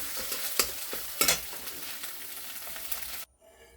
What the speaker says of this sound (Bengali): একটু ভালো করে ঝুড়ো ঝুড়ো করে ভাজা করে নিই,